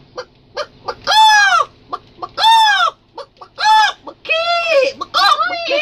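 Rooster crowing repeatedly, five long arching crows in close succession with short clucks and squawks between them, loud and near, with no other voices over them.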